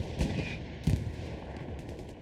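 Gunfire in the World War II shooter Hell Let Loose: a dense, steady rattle of distant automatic fire and scattered shots, with a few sharper reports standing out from the ongoing battle noise.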